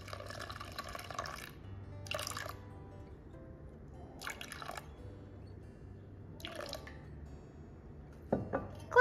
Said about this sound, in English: after you add the 415 grams of water